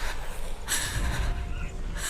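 Fast, heavy breathing of Senua in Hellblade: Senua's Sacrifice, close and breathy with a couple of sharp inhale-exhale bursts over a dark ambient bed.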